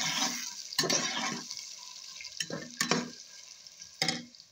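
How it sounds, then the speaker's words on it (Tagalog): Garlic and onion sauté in a pan over a firewood stove, with sizzling frying and intermittent stirring scrapes that come in several short bursts, close and moderately loud. "Then now I need saute now garlic onion."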